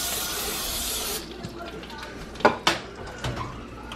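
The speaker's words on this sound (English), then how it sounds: "I spray a little bit of olive oil cooking spray all over them" Olive oil cooking spray hisses steadily onto chicken wings for about a second, close and loud, followed by a few clinks of pans and utensils in a home kitchen.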